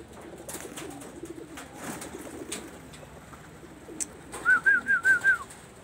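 Pigeons come down to drink, with soft rustling and faint wing movement followed by a nearby pigeon giving a clear, rhythmic run of about five throaty coos.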